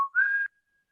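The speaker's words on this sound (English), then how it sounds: "though a low whistling can be heard" A low, eerie whistle in an audio drama's night-time walk home, one sustained tone that starts briefly, dips, then rises slightly and holds for about half a second before cutting off into silence.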